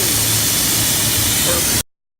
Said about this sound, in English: as soon as the air bleeds off, we'll be safe to go in there and work on the machine